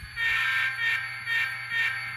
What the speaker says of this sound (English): And we'll listen to the horn again.